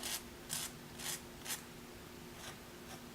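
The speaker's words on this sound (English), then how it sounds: "to remove this excess here, I'm just going to take a nail file" A nail file scrapes in short, quiet rubbing strokes while removing excess nail polish from a fingernail. There are about six to seven separate, evenly spaced passes, close up, with a faint hum behind them.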